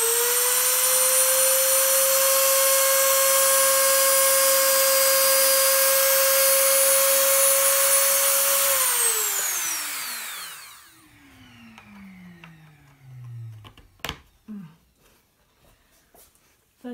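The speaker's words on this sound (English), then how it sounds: "So I drill in holes for the fretboard markers, actually the sideboard." A power drill boring holes for the fretboard side markers on a 1950s guitar, a steady loud whine for about nine seconds that spins down and fades, followed by faint clicks and handling noises.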